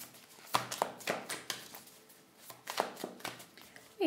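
Tarot cards are shuffled up close in a series of quick, papery riffling bursts and taps, irregular in rhythm, with no talking.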